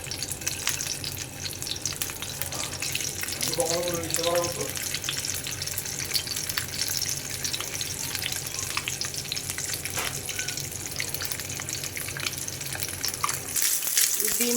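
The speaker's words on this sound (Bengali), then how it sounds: "এখন আমি ডিমগুলাকে একে একে ছেড়ে দিব তেলের ভিতরে ডিমগুলা সুন্দর করে ভেজে নিব" Eggs dropped one by one into hot oil in a pan fry with a steady, close hiss and crackle that runs the whole length, with a few faint clinks and a brief tonal sound partway through.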